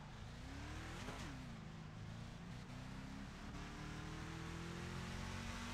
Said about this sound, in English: You can hear him giving a little bit of throttle to try and straighten that truck out.